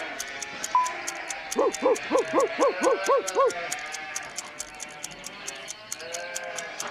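A game-show sound effect of sheep bleating delivers a quick run of about six wavering bleats in a row, clear and close, set among ticking and other background effects.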